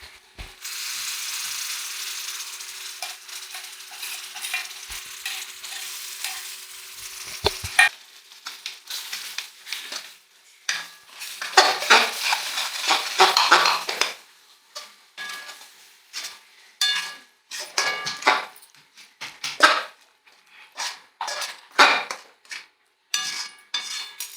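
Mint paste for a mutton biryani sautéed and stirred in a pan, a steady sizzle for several seconds that gives way to intermittent scraping stirs and clinks, close and moderately loud with no talk.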